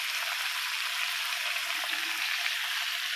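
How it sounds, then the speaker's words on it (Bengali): Kakrol (spiny gourd) seasoned with salt and turmeric frying in a pan, giving a soft, even hiss that stays level and fairly quiet throughout, with no voices. "লবণ হলুদ দেবো, দিয়ে আস্তে আস্তে করে এটা সুন্দর করে ফ্রাই করবো"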